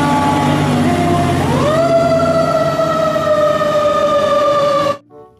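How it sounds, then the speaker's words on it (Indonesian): Toy fire truck siren wailing loudly and steadily, a harmonic electronic tone that rises in pitch then holds for several seconds before cutting off abruptly. "Ada pemadam kebakaran."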